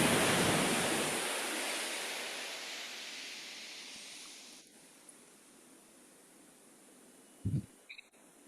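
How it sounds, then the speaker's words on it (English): Ocean waves heard over a live online connection during a guided flow meditation, a steady broad wash of surf that slowly fades over several seconds before a couple of brief bumps near the end. "I can hear you and the waves."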